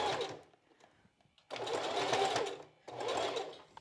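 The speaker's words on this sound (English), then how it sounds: "I'm just trying to baste again about 1/8 of an inch from the edge of the hook and eye tape" A sewing machine runs in two bursts of rapid stitching, basting along hook and eye tape for a strapless bra, separated by a quiet pause, with a brief whir at the start.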